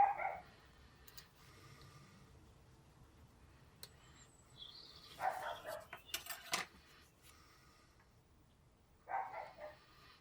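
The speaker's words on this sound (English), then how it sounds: "bloody barking at the bloody birds again" A dog barks in short separate bursts at birds flying overhead, with a gap of several seconds between volleys, set against a quiet outdoor background with faint birdsong and insects.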